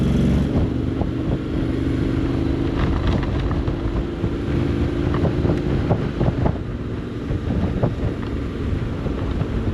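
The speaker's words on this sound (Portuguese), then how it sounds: "Este barulho assim quando nós aceleramos." A Honda X-ADV 750 motorcycle engine drones steadily with a low rumble while accelerating, accompanied by heavy wind buffeting the microphone and no talking.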